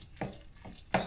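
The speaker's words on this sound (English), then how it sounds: "play the drums a bit and get all the things off the spoon" Spoon tapped against a cooking pot to knock off tomato paste and ground beef, three quick metallic knocks spaced evenly, close and clear with no talking.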